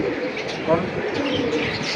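Pigeons at a bird sale coo close by, soft low rolling calls rising over a steady background of people chatting.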